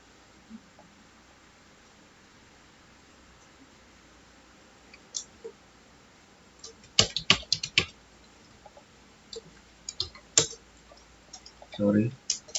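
Short bursts of typing on a computer keyboard while entering Cisco router interface commands in a network simulation, mostly quiet with a clustered flurry of clicks midway and a few isolated keystrokes.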